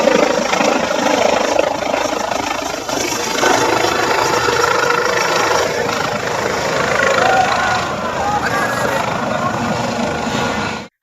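A helicopter landing on a helipad set up right beside a stall, its loud continuous rotor and engine roar mixed with strong gusting wind noise that holds steady for the whole stretch before cutting off abruptly.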